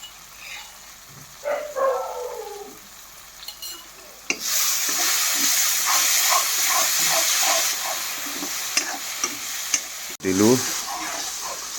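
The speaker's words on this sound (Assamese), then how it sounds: "পূৰা মছলা দি বিলাহীটো পূৰা ভাজি কৰি লওঁ।" Tomatoes fry with whole spices, ginger and garlic in a pan for a paneer dish. A loud, continuous hiss and sizzle starts abruptly partway through, with clinks of stirring over it and quieter sounds before it starts.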